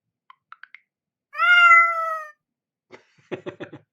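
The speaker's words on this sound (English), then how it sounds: "That came out of the computer speakers and not the break" A cat meow sound effect from a LEGO SPIKE Prime program played through computer speakers: a few short clicks, then one long drawn-out meow, followed by a brief burst of chirpy meowing sounds, all alone with no talk.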